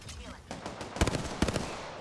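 Gunfire bursts in the battle royale shooter Apex Legends, sharp cracks and rapid volleys clustering around the middle of the stretch over a busy background of game noise.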